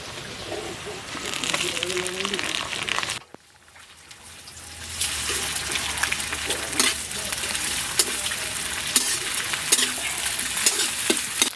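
Ginger and garlic paste frying in a pan for duck curry, a steady bright sizzle with stirring scrapes, briefly dipping quiet after a few seconds then returning loud and continuous with spoon clatter; faint voice-like sounds underneath.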